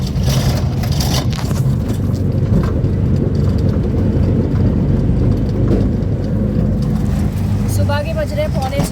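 Riding in an auto rickshaw before dawn: a loud, constant engine drone and road rumble fill the whole stretch, with people talking over it and a brief faint chirping near the end.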